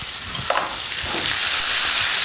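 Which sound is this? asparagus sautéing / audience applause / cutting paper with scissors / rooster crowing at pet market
asparagus sautéing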